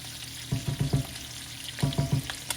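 Pork chops with apples frying in a pan as honey goes in, a steady low sizzle with two quick bursts of three rhythmic taps or stirs, close up and without talk.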